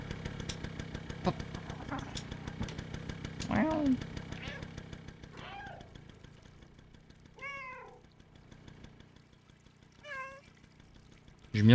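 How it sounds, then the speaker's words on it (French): A cat meowing in the video game Stray, several distinct meows spaced out over a low idling engine-like drone, with a few faint clicks between calls. "Je miaule pas assez, je trouve."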